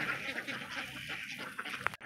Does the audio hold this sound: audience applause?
no